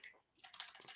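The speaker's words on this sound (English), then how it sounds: "while I'm typing this out" Quiet, rapid clicking of a computer keyboard during a live sports-betting stream: a short burst of taps, a brief pause, then a denser run of keystrokes, faint and close.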